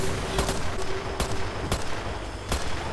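Gunshots crack in the Sniper Elite VR video game, four or five sharp, loud reports spaced irregularly over a steady background rumble of battle.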